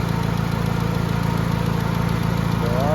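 Mitsubishi Lancer GSR engine idling with air conditioning on, a steady low rhythmic thrum with even pulses, heard close and continuous, with a slight rise at the end.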